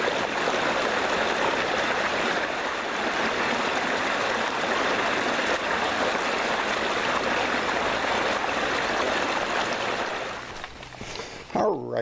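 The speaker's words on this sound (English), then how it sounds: "I can still hear that water rushing pretty hard there to our left" Hard-rushing stream water along the Hattaway Trail on Morrow Mountain, a steady broadband roar filling the foreground throughout, easing slightly near the end as a few faint handling sounds appear.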